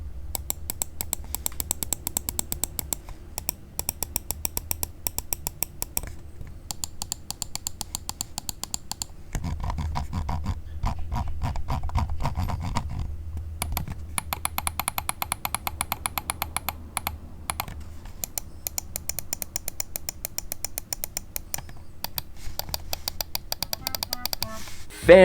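A RAWM SA-SH01S wireless gaming mouse is clicked rapidly, dense bursts of sharp, snappy clicks in fast spam-clicking runs separated by brief pauses, close and crisp throughout.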